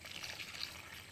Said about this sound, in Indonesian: Terlebih dahulu kita siram dulu.